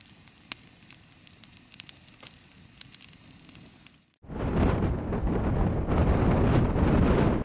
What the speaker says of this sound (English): the wind is absolutely insane today